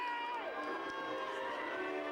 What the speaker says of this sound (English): Come on, ladies and gentlemen, cheer.